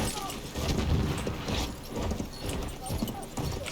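Horse hooves gallop in a video game, a steady rapid thudding rhythm throughout under a busy mix of game noise.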